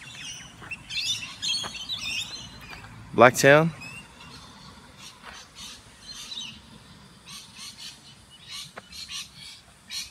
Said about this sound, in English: You can hear a bunch of birds, they're called rainbow lorikeets